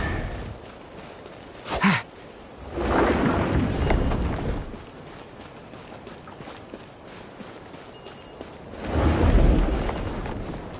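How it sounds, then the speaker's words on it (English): Thunder rumbling in the game Genshin Impact: a short crack near two seconds, then two long, deep rolling rumbles, one after three seconds and a louder one near the end, with no talk. "Thunder!"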